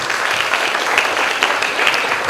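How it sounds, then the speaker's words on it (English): An audience at a one-day seminar bursts into applause, a dense, steady clatter of many hands clapping close by for a couple of seconds. "Give a clap now."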